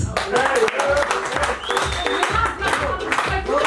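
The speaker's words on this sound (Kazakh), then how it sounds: "Осы бір жандарға бір шапалақ ұрайықшы." Wedding guests at a 50th birthday party in Astana applaud in a dense burst of clapping that runs for several seconds, mixed with cheering and voices talking over it.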